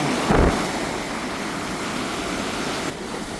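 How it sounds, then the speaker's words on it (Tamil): A heavy, steady roar of sea waves rushing and churning on the shore at Mullaitivu, loud and close, with a brief thump near the start. "தண்ணி இங்கே எப்படி அடித்து ஓருதுன்னு பார்த்தீங்களா பயங்கரமாக அடிக்குதா தண்ணி"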